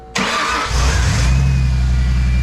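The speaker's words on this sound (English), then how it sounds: "Go ahead and start it up, see if it'll idle again." A 1997 Ford Mustang engine cranks briefly and catches, then settles into a loud, steady idle close to the microphone.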